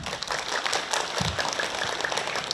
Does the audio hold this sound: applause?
yes